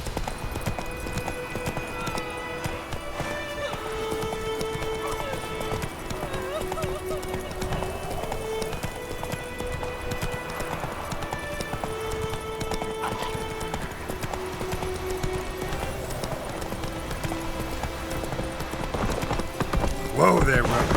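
A horse gallops in The Witcher 3: Wild Hunt, its steady rhythmic hoofbeats running throughout under game music and character voices, growing slightly louder near the end.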